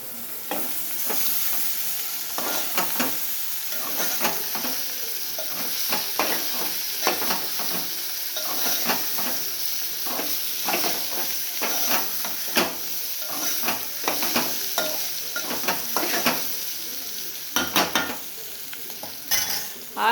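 Capsicum curry with green chillies and chilli powder frying in a pan, a continuous close sizzle broken by frequent scraping stirs and clicks of the spoon.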